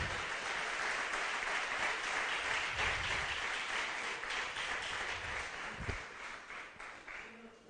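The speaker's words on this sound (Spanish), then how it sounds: "¿Se anima a darle un aplauso bien fuerte al Señor?" A church congregation applauds steadily for several seconds, the clapping thinning slightly toward the end.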